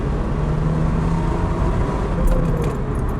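A Toyota Celica GT-Four ST205 with all-wheel drive pulls hard in third gear, its engine a steady, loud drone heard from inside the cabin, with brief rattles and clicks near the end and no one speaking.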